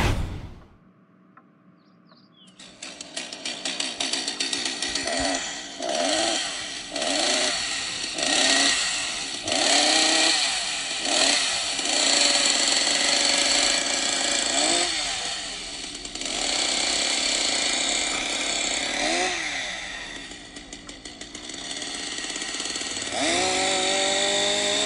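A chainsaw runs loudly and continuously for about twenty-five seconds after a short quiet start, its buzzing engine revving up and down repeatedly with sharp pitch swoops.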